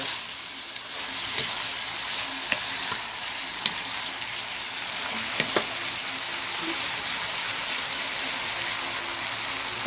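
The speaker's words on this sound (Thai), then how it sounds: "จากนั้นก็ใส่ถั่วงอกไปเลยค่ะถั่วงอกของเราใส่ลงไปเลย" Home-grown bean sprouts stir-fried in a pan make a loud, continuous sizzle close by, broken by a handful of sharp spatula taps.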